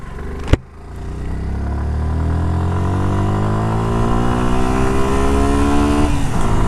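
A 2024 Suzuki Gixxer 155 naked sport bike, 155 cc, pulls away after a sharp click, its engine note rising steadily in pitch as it accelerates through the revs, loud and close throughout.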